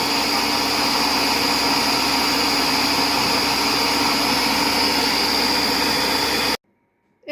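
A Compact Cook Pro food processor runs at very high speed for cleaning, giving a loud steady motor whir with constant hum and rattle for several seconds before cutting off abruptly into silence.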